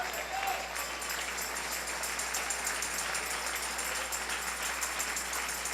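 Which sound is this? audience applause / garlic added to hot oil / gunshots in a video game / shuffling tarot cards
audience applause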